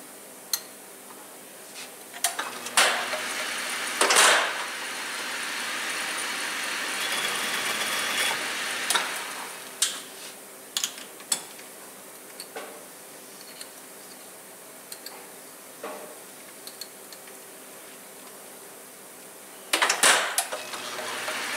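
An old lathe runs steadily in a workshop with a constant whirring drone, punctuated by irregular ticks, clicks and a few louder clanks of metal being handled.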